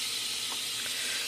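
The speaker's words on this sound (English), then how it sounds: "I just went ahead and released whatever little bit of steam was left" Steam from a quick release on a Crockpot Express multi cooker, a loud, constant, close-up hiss that fills the whole moment without a break.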